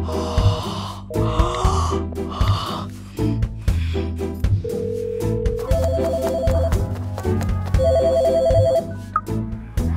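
A telephone rings in repeated electronic trills mixed with a musical soundtrack and breathy sounds, clear and fairly loud, with no speech over it.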